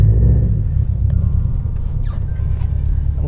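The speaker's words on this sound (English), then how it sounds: "let's start her up and let's hear that rumble" Deep, steady engine rumble from an idling Subaru WRX STI sedan, loud and close, holding a constant low drone with slight fluctuations and no talk.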